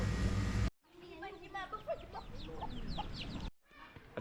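Chickens in a small mountain village in Laos cluck and squawk in short, irregular calls. The calls are close and clear. A loud burst of other sound cuts in briefly at the start, and another at the end.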